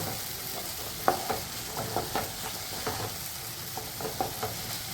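Potato, spinach and tomato sautéing in a pan with plenty of garlic: a soft steady sizzle with occasional scraping stirs of a spatula, fairly quiet and close, with no talking.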